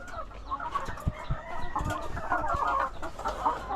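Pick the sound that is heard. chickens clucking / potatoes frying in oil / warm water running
chickens clucking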